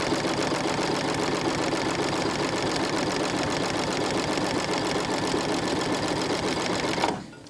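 A sewing machine stitches quilt fabric along a 1/4 inch seam guide in a steady, close, rapid mechanical whir that runs without a break and stops abruptly near the end.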